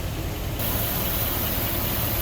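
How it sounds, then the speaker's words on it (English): A 1961 Cadillac Fleetwood Special sedan engine idling with the hood open, a smooth steady broadband rumble close by, unchanging throughout with no talking. "You can hear how smooth this engine runs."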